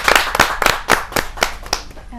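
An audience at a Hindi poetry gathering claps to welcome a poet with loud, close, evenly paced hand claps, about four per second, before a voice begins at the very end.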